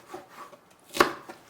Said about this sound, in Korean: 대파는 어슷어슷 썰고요